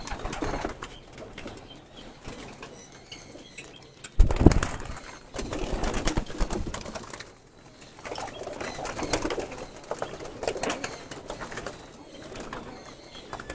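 Racing pigeons in a loft coo softly on and off, broken by a sudden close burst of wing flapping.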